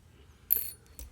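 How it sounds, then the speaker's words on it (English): Hex screws being removed from the bottom of a mechanical keyboard, two short metallic clicks and taps close up against quiet background. "There are screws on the bottom, so we're gonna flip it over and get those out. I believe they're hex screws"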